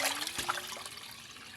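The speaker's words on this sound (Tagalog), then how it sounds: "lagyan ulit ng tubig" Water pours and trickles into a bowl of squeezed bamboo shoots (labong) being rinsed of bitterness in a home kitchen, a brief splashing fill with a faint rising tone.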